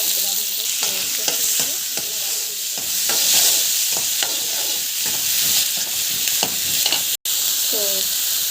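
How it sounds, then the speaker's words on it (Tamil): Garlic, onion and chili sizzle steadily in hot oil in a pan for a mint chutney, with repeated scraping stir strokes close up and no talking. "போட்டு நல்லா வந்து வதக்கிடுங்க. நல்லா வதக்கணும்."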